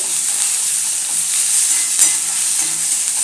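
Tomatoes for chole masala sauté in oil in a pan, a continuous bright sizzle with soft stirring scrapes, close and fairly loud, steady throughout with one slightly sharper scrape midway, and no talking.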